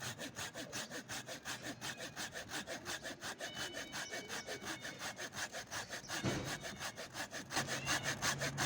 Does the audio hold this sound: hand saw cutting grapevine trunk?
yes